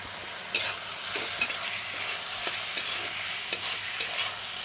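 Vegetables for chowmein stir-fried in a pan with soy sauce and tomato sauce: a continuous sizzle broken by regular sharp spatula scrapes and knocks, with no talking.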